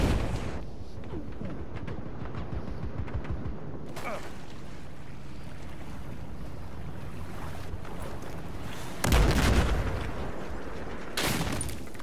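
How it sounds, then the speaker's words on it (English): Battlefield 4 battle ambience rumbles with wind-like noise before a single heavy explosion bursts close and loud near the end, followed by another sharp blast. "That exploded in my face"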